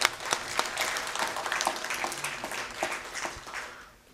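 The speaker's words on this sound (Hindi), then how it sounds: "उनके लिए ताली" An audience at an Urdu poetry recital gives sustained, fairly close clapping with scattered sharp individual claps, tapering off toward the end with no talk over it.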